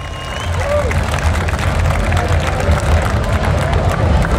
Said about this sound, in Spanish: Muchachos, puros aplausos.